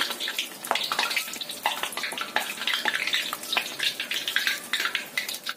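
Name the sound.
frying carrot and tofu fritters in a wok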